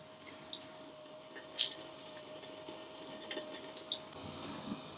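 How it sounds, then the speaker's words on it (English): Cooked cauliflower being wrung out in a twisted cloth to make a garlic parmesan mash, with quiet squishing and wet dripping and trickling close by, soft and intermittent over a faint background hum. "And just squeeze it. Squeeze it, squeeze it. Get all the water out."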